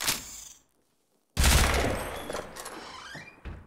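Pistol gunfire in Half-Life 2 (Cinematic Mod 2013): a short burst at the start, a silent gap, then a loud, dense stretch of rapid shots and impacts that tails off near the end.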